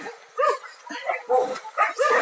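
Dogs at a shelter bark and yip in short bursts near the listener, several sharp calls over about two seconds, with a voice talking between them.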